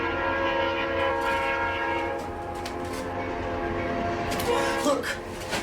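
A train rumbles past with a sustained horn-like tone over steady mechanical noise, loud and close, with faint voices underneath.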